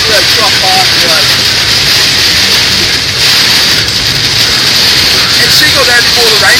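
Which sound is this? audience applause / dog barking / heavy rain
heavy rain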